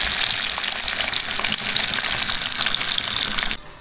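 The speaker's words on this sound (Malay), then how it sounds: "kita goreng dia sampai garing" Loud, continuous sizzling and crackling of river fish frying in hot oil until crisp, steady throughout before dropping off abruptly at the very end.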